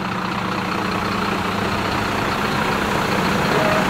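A Maybach Exelero, the one-of-a-kind car, idles at a private airport in Germany, its engine a steady, loud, continuous low rumble with no break across the whole stretch.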